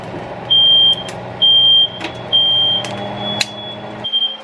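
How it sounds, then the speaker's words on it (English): A smoke alarm goes off during cooking, sharp high electronic beeps in a repeating pattern of three long tones with short gaps, loud and close over a low kitchen hum, with a few clicks and knocks. "You know you're doing some bomb cooking when you get the alarms to go off."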